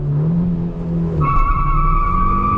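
A Hyundai Verna Turbo with a manual gearbox launches hard in first gear, its engine roaring loud and close before a sharp, sustained tire squeal of wheel spin takes over and holds to the end.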